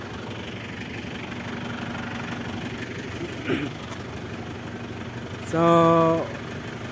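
A van's engine, long unused, idles to warm up in a garage with a low, steady rumble; a short tonal beep sounds near the end, and a voice briefly speaks.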